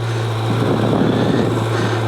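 A Kawasaki Ninja 1000 motorcycle engine drones steadily during a ride, a constant low hum with a rough, buzzing texture, loud and close, with no talking.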